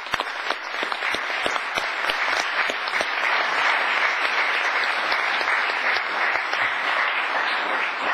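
An audience at the investiture of Mayor Jacques Krabal in Château-Thierry applauds the municipal staff, many hands clapping in a dense, steady patter that continues without a break.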